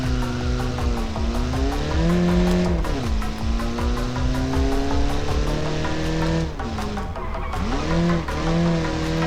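A Soviet-style touge race car in a BeamNG simulation drifts hard, its engine droning loudly with sweeping pitch changes as tires squeal continuously through the slide, close and without any talk.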